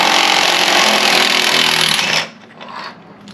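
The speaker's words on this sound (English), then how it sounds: "The first thing we need to do is remove the old body mount bolts." A power tool works loudly and steadily on old body mount bolts of a Jeep Wrangler LJ Rubicon, a continuous close whine that stops abruptly, followed by quieter handling noise.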